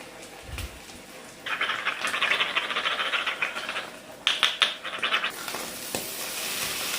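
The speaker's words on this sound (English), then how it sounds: "I have mixed up some eggs and cream, and they're just going to get scrambled up in that same pan that the sausage was in" Eggs and cream scrambling in a hot pan still greasy from cooked sausage, a steady sizzle swelling after a quiet start, with scraping stir strokes and brief clatters near the end.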